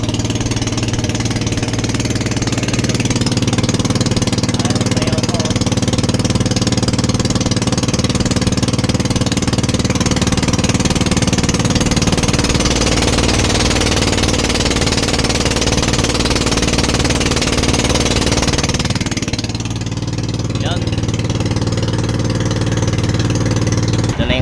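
A fishing boat's motor runs steadily out on the water, a loud, close, continuous engine drone with a mechanical chatter that dips briefly near the end before carrying on.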